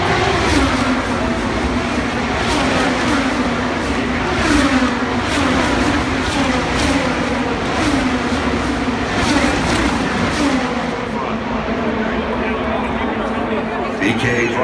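Chevy-powered IndyCar race cars roar past in single file at the Indy 500 just after the start, a steady, dense engine wash that never lets up while an announcer talks over it.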